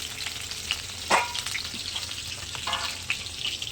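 Potato curry sizzling in a pan, a faint steady crackle with a few brief stirring scrapes and spits, no talking.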